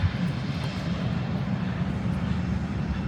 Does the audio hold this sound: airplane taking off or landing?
yes